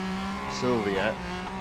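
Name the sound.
Nissan Silvia race cars in the video game Real Racing 3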